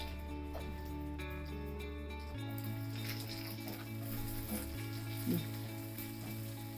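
Vegetables and onions frying in a pan while being stirred, a soft continuous sizzle with occasional scraping knocks, set against a steady low humming drone.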